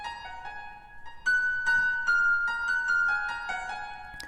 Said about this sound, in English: Then another piano layer I got, it goes a little bit higher up, I think up an octave again